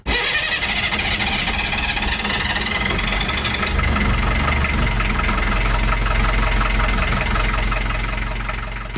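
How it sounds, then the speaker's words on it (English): A marine diesel engine on a boat cranks and fires, then settles into a steady, loud rumbling idle with a rhythmic knocking throb that continues unbroken to the end. "We're gonna see if we start the engine, see if it works."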